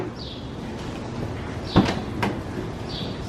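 Doors on a 2019 Winnebago Revel camper van swing open, giving a sharp latch click midway and a second softer clunk shortly after over steady outdoor background noise.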